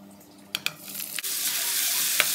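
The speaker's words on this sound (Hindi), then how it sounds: "प्याज, टमाटर, मिर्च और लहसुन को कट कर लिया है, तो चलिए इसको हम फ्राई करते हैं" Chopped onion, tomato, chili and garlic hit a hot pan: a few sharp clacks, then a loud, steady close-up sizzle that swells and holds to the end.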